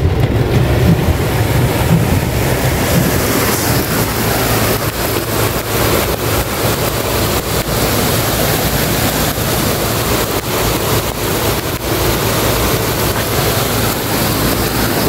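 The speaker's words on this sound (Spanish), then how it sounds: "así es la gran correntada que pasa por acá" A swollen river in flood roars through a storm near the El Ahogado bridge in Metapán, El Salvador, a loud, continuous rushing wash with no break.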